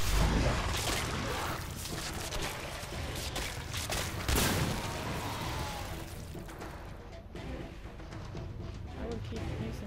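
A weapon firing in a video game, with rapid bursts of gunfire and booming blasts that stay loud throughout over a dense, noisy mix.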